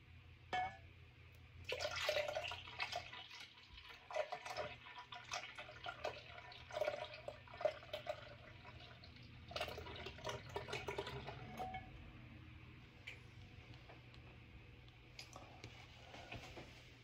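Raw fresh milk poured from a container into an Instant Pot, a soft continuous liquid splash and trickle with intermittent gurgling surges, close by and steady over a low background hum.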